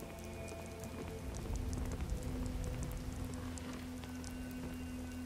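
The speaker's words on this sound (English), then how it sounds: "It's raining." Rain falls steadily in the Skyrim video game, a dense, even hiss of drops with a faint low hum underneath, heard alone without speech.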